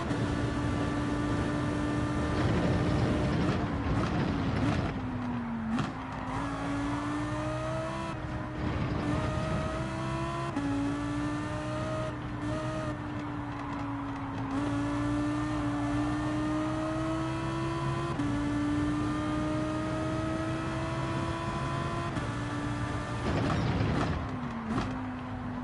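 A Lamborghini race car running in Gran Turismo 7, its engine holding a steady droning tone that rises and falls through gear changes, with occasional creaks and mechanical noise, continuous and fairly loud.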